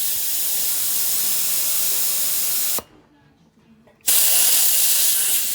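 Air hisses out of a resin casting pressure pot's release valve: a loud, steady, close-up rush that cuts off abruptly for over a second, then bursts back even stronger.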